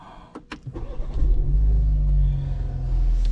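A 2025 BMW 320i starts after a few cabin clicks, its engine catching with a quick rise and then settling into a steady, close, low idle rumble.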